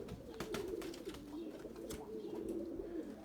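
Tumbler pigeons, including white males flown from a loft, coo softly and repeatedly in low rolling calls, faint and steady with no voices.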